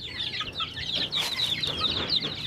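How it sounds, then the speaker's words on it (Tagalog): A flock of five-day-old chicks peeps continuously in high, overlapping chirps at feeding time, close and fairly loud, with soft clucking and fluttering mixed in. "Then, pakainin naman natin yung mga 5 days old nating mga sisiw."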